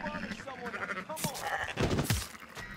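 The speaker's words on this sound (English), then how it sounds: "Nobody seems to question the fact that I'm in here killing the local sheep." Sheep being killed in Red Dead Redemption 2 let out several bleats close by, under game noise with sharp impacts.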